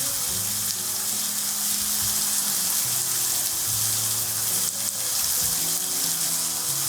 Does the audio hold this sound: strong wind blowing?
no